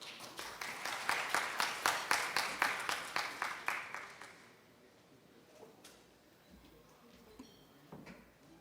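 A seminar audience at a corporate technology presentation applauds to welcome a speaker. The claps are loud and steady for about four seconds, then stop abruptly, leaving a quiet room with only faint shuffling.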